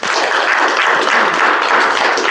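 An audience at a Toastmasters club meeting applauds to welcome the timer: loud, dense clapping from many hands, steady and continuous throughout, with no talking.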